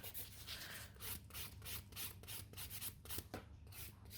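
A nail file worked across a natural fingernail, giving faint, soft rasping strokes in a steady back-and-forth rhythm, very close and quiet with no voices.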